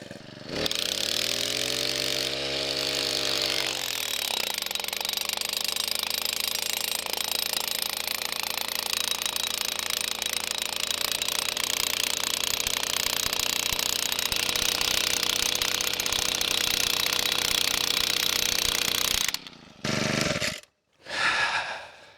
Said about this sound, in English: Let's see if it can pound a rebar stake.